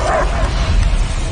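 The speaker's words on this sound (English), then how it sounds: "I hear only barking." A dog barks and yips in the video game Guardians of the Galaxy, loud and continuous, mixed with game ambience and a voice in the background.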